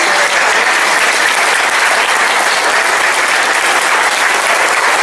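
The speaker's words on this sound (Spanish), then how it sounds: "un aplauso, compañero" An audience at a Communist Party political meeting in Chile breaks into loud, sustained applause, dense clapping held at an even level throughout.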